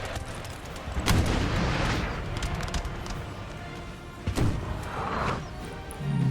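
Napoleonic artillery cannons firing on a battlefield in Napoleon Total War, with two heavy booms standing out over a dense, continuous rumble of distant battle noise and scattered musket fire.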